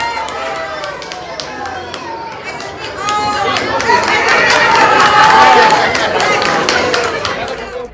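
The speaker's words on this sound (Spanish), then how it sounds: "Fuerte el aplauso para Serena y la granja Golden Rabbit." An audience at a Flemish Giant rabbit show applauds, clapping swelling to a loud dense patter midway amid crowd chatter and cheering, with someone speaking over it on a public address.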